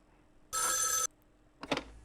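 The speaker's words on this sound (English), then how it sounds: "Someone or something wants us to answer the phone, so why don't you take the call?" An in-game telephone rings in the horror video game Spirit Hunter: NG, one loud sustained bell burst followed after a pause by a shorter, choppier ring, with no talking.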